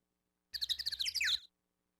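A person imitates bird noises in the Phoenix Wright: Ace Attorney game, giving a short, quiet burst of high, rapid chirps and tweets that lasts about a second and is surrounded by silence.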